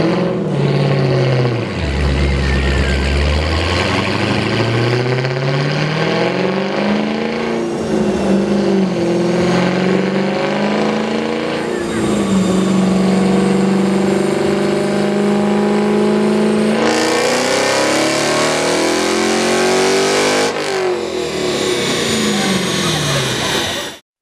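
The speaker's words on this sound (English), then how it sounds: "Dodge Challenger SRT Hellcat." A Dodge Challenger SRT Hellcat engine revs on a dyno, loud and close, climbing through repeated rising pulls and gear changes with a blaring, sustained roar.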